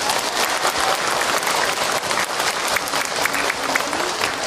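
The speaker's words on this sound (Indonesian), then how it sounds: "Tepuk tangan buat Ahilman dong untuk jawabannya." An audience at an Islamic talk on prayer by Ustadz Hilman Fawzi claps together in a dense, sustained round of applause, steady and fairly loud throughout.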